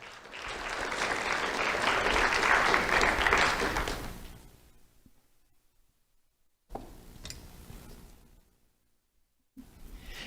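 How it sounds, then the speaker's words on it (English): Audience applause fills an award ceremony honoring a Lehigh Elementary School student, loud and sustained for about four seconds before fading out, followed by quieter stretches with brief bursts of room noise. "Let's have a round of applause for Colin Blanc."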